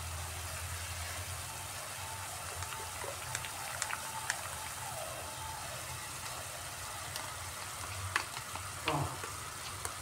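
Spices with chilli powder and yogurt sautéing in a pan for doi bhindi (okra in yogurt), a steady low sizzle running throughout with occasional faint scrapes and small pops of stirring.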